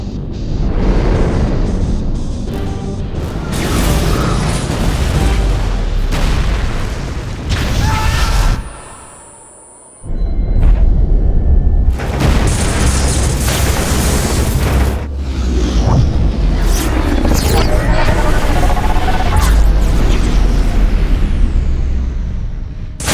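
Starship weapons fire and explosions batter a ship in a Star Trek film: loud booming blasts and rumbling impacts recur throughout, with a brief near-silent gap midway before the barrage resumes.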